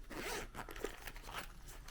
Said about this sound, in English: Let's unzip this baby.